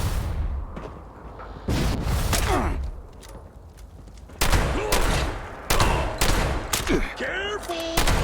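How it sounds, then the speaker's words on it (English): Bursts of gunfire crack out in Fallout 76 during a solo expedition in The Pitt, several separate volleys with booming reports, punctuated by short whooshing effects and a brief voice. "Who's shooting?"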